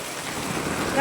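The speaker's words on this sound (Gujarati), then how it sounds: "હજી વરસાદ વધવામાં છે." Steady heavy rain pouring down outside an anganwadi yard during a flooding downpour, a dense continuous hiss that swells slightly louder toward the end, with no one talking.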